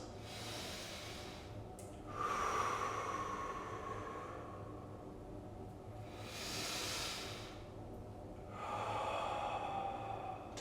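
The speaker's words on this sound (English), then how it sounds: "2 more big breaths." Slow, deep breaths during a seated stretch in a spine-focused yoga session: three long, airy inhales and exhales, soft and close, with steady room noise between them.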